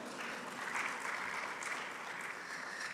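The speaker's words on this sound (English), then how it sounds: "Please, another round of applause." Ceremony audience gives a soft, steady round of applause at an SDGs opening event, an even wash of clapping heard from a distance, fairly quiet throughout.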